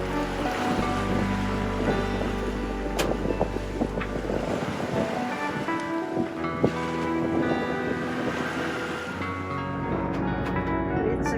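Steady wash of long, slow open-sea waves of 1.2 to 1.6 meters and wind around a moving boat in the Bay of Biscay, a continuous low rumble with occasional splashes, no voices.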